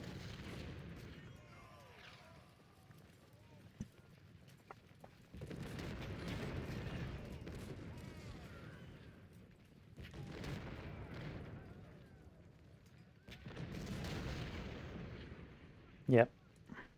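Cannon artillery in the Civil War video game Ultimate General: Civil War booms in three long, heavy bursts of rumbling fire, with a faint voice talking between them.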